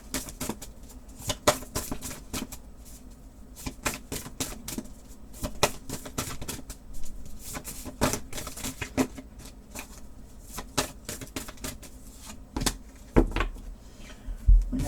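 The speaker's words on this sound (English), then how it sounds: "Let's pull some oracle cards." Oracle cards being shuffled during a daily tarot reading, a steady run of soft papery riffles and flicks, close and fairly quiet, with a few sharper slaps near the end and no talking.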